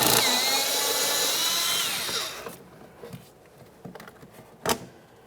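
A power driver spins out T15 Torx screws from a plastic inner fender liner panel on a 2017-2023 GMC Acadia: a steady whirring buzz for a couple of seconds, then a few scattered clicks and taps.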